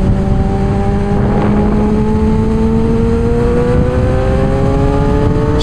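A Suzuki GSX-R 750 motorcycle accelerates on a motorway, its loud engine whine climbing steadily in pitch over heavy wind rush, continuous and close throughout.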